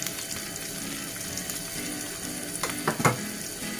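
Catfish frying in hot oil with a spoonful of flour added, a steady close sizzle and crackle that runs throughout, with a few louder pops and splashes near the end.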